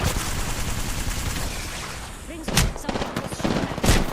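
Rapid gunfire hitting the player in the Apex Legends video game, dense bursts of shots over noisy game sound, with sharp louder cracks near the end and some talk underneath.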